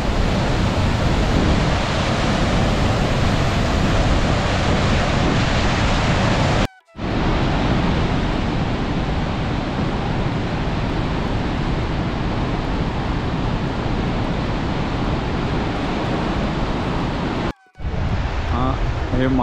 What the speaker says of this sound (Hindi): अलकनंदा नदी बघा कशी खळखळ वाहते एकदम